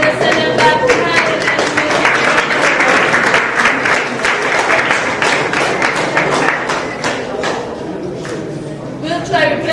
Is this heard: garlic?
no